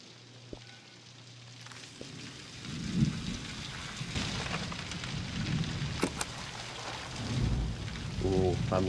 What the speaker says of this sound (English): Man, it hasn't rained here in forever. I love the rain.